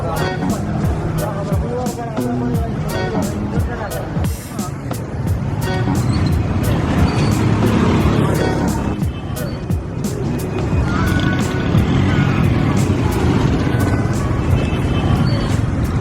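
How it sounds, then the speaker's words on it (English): Busy street traffic in Raja Bazaar, Pakistan, with motorcycles, cars and people rolling carts, a dense continuous roar of engines, horns and crowd babble close around, with voices talking throughout. "There's motorcycles, there's cars, there's people rolling carts down the road."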